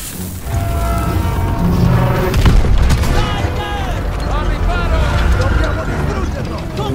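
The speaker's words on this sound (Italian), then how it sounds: "Fa esplodere quei cannoni, Daniels!" A loud, heavy blast with a deep rumble as cannons are blown up amid continuous battle noise in Call of Duty: WWII, with voices shouting over the din.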